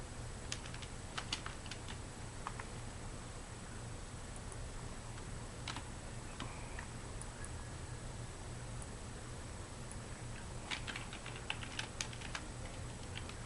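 Someone types on a computer keyboard while listing thrift finds for eBay, with uneven bursts of close key clicks over a steady background hum and brief pauses between runs of keystrokes.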